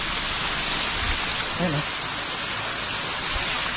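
A mountain waterfall of cold, drinkable spring water rushes in a steady broadband hiss, with a short spoken word briefly over it.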